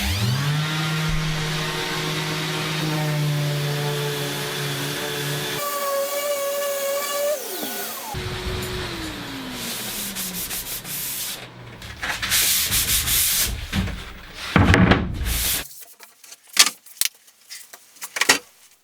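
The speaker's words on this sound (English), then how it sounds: "sanding any rough edges, glue squeeze and dried filler from all the shelves" A power sander whirs against wooden cabinet shelves, smoothing rough edges, glue squeeze and dried filler, its motor whine shifting in pitch, then breaking into short, uneven bursts and pauses toward the end.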